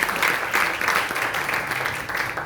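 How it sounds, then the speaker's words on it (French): A church congregation claps together at a service, a dense, continuous wash of applause with a loose rhythmic pulse, close and loud throughout. "On va applaudir à Dieu."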